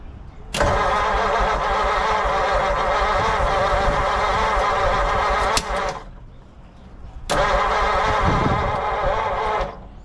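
A 1940 Mercury Eight engine that had sat unused since the 1970s cranks and catches, running loud and rough for about five seconds, cutting out briefly, then firing up and running again.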